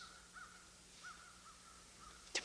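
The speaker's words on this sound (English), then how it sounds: "listening together to the sound of wind and crows and breathing" Crows caw outdoors, several short, harsh calls spaced irregularly and heard at a moderate distance over faint wind, with a brief sharp noise at the end.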